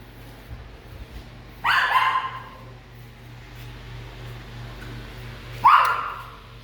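A dog indoors in a beach house in Progreso gives two separate loud barks a few seconds apart, close by, over a low steady hum.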